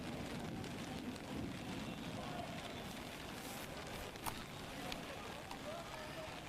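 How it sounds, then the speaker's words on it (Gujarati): Heavy rain pours on waterlogged streets in Mehsana, a faint, steady wash of hiss and patter that continues unbroken with a few brief splashes. "સતત વરસાદી માહોલ મહેસાણામાં આપ જોઈ રહ્યા છો"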